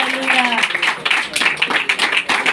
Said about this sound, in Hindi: जोरदार ताली बजाए प्रभु की महिमा के लिए